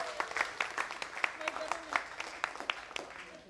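A church congregation at a Filipino worship service claps for God, a scattered, uneven applause with sharp individual claps and voices mixed in, moderately close and not very loud.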